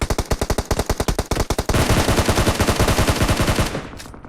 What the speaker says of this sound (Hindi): शायद से सामने से बिल्डिंग में फायरिंग हुई।